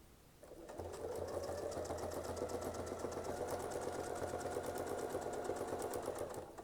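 A sewing machine stitches quilting lines in one steady run, its needle chattering in a fast even rhythm with a low motor hum underneath, close and loud from start to finish.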